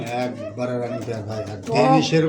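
Pigeons sold at a bird market coo in low, rolling bursts close by, mixed with a voice talking over them.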